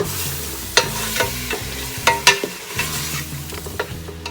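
Onions, garlic and ginger fry in a pot for Saudi lamb kabsa while a spoon stirs them, giving repeated scraping clinks over a steady close sizzle, with no voices.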